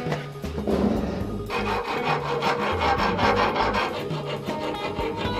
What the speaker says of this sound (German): Wir werden wohl noch lange sägen müssen, aber es lohnt sich.